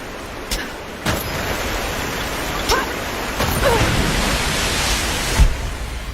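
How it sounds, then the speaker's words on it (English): Water rushes steadily behind a sluice gate in a Tomb Raider game, a loud continuous roar with a few sharp knocks and faint voiced sounds over it. "That sluice gate is holding the water back."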